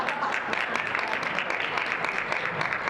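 A conference audience at a business networking event applauds, a dense, even patter of many hands clapping at moderate distance for a few seconds, with faint voices mixed in.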